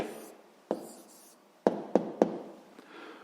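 Pen or pencil taps and scratches on paper while writing out a math answer, a few sharp close ticks spaced unevenly over a soft scratching, quiet and without talk.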